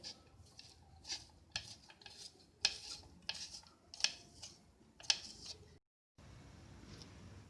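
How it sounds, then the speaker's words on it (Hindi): Mozzarella cheese rubbed on a grater gives quiet, rhythmic rasping strokes, about eight in a row, each a short scratchy swipe, then a brief pause. "मोज़रेला चीज़ हमने ली है, इसको अब कश कर लेंगे।"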